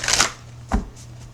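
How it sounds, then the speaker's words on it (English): Tarot cards are shuffled close by in a couple of quick riffling bursts, a papery flutter followed by a softer slap, with a low steady hum underneath. "Who are we shuffling for?"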